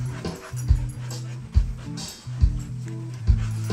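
Several dogs panting heavily and rhythmically close by, with quick breathy huffs repeating about once a second.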